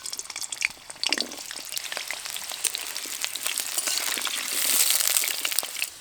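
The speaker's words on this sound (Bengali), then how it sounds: "আলুগুলো দিয়ে ভেজে নেব।" Potatoes fry in oil in a wok, a steady crackling sizzle with sharp pops and a clunk of stirring, the hiss swelling louder toward the end.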